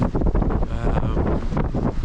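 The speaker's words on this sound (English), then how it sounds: "I thought the wind had sort of disappeared, but it's still gusting around a wee bit" Strong wind at a reservoir in the Mourne Mountains buffets the microphone in continuous, roaring gusts, loud and close throughout.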